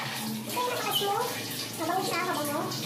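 Water runs steadily from a tap or shower for a baby's bath, filling the clip under continuous speech.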